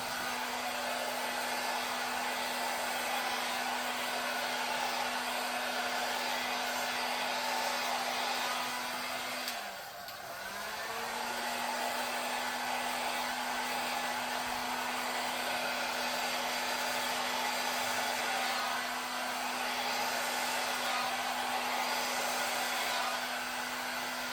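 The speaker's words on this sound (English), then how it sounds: "now I'm going to blow it this way, see if I can bring some of those cells up" Steady blowing air from a hair dryer over wet acrylic pouring paint, a constant close whooshing hum with one brief dip midway before resuming.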